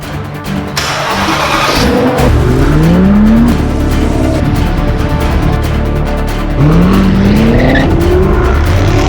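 A Ford Bronco Raptor with a Ford +50 hp performance upgrade drives hard, its loud engine rising in pitch through two strong accelerations with gear changes in between, close by and without talk.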